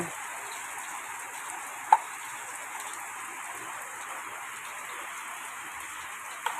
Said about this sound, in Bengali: আজ সকাল পর্যন্ত অনেক বৃষ্টি হচ্ছে।